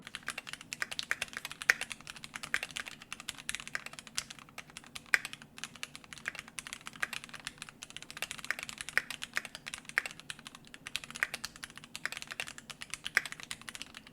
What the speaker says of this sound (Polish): Posłuchajcie jak brzmi ta klawiatura w tej konfiguracji.